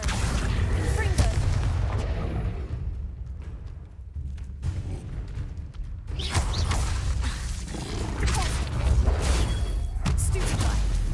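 Hogwarts Legacy spellcasting with Confringo, Depulso and Incendio blasts: repeated loud booming bursts and crackling impacts, layered with mechanical clatter, dipping briefly in the middle before resuming dense and forceful.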